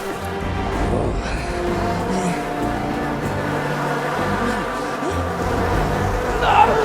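Dense swarm of bees buzzing steadily throughout in the video game SMITE, a continuous droning hum with game sounds layered beneath.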